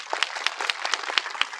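Audience at a political rally in Hardoi clapping, a quick, uneven patter of many hands in close succession, fairly loud and near, with no talk over it.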